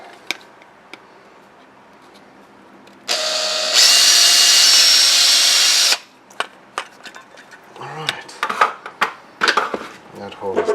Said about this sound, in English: Let's just make a hole. Not hammer drill. Normal drill will help.